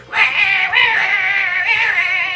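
A human voice imitates a cat, singing in a drawn-out, wavering meow-like wail, loud and close.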